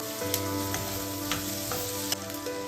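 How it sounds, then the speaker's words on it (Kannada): Onion and turmeric fry in a pan with a soft, steady sizzle, a low constant hum beneath it, and a few light clicks from stirring. No one speaks. "ಅರಿಶಿಣ ಎಲ್ಲ ಸ್ವಲ್ಪ ಫ್ರೈ ಮಾಡ್ಕೋಬೇಕು"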